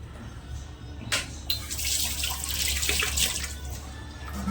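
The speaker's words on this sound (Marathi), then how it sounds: "आता ह्याच्यामध्ये मी जरा हात धुवून घेते" Hands are rinsed under a running kitchen tap mid-recipe, a steady close hiss of flowing water with brief splashing bursts as the hands move through the stream, alone without speech.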